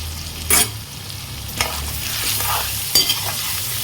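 Chicken coated with turmeric and salt sautés in a pan for a light curry, a steady close sizzle broken by three sharp spatula scrapes and stirs.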